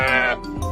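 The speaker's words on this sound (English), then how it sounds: "Sheep say," A fluffy sheep on a farm gives a single short bleat, close and fairly loud, with a wavering tone and no talking around it.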